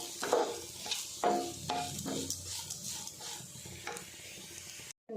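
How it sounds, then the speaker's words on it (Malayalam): Grated coconut sautés in a pan, a steady soft sizzle broken by repeated scraping stirs of a spatula against the metal, close up with no voices. "നമ്മൾ നാളികേരം ഒന്ന് വഴറ്റി കൊടുത്തിട്ടുണ്ട്"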